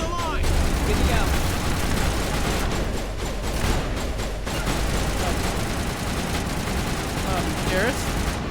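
Turret gunfire in the Mass Effect video game rattles in dense, continuous volleys, loud and close, layered with booming impacts while a voice talks over the barrage.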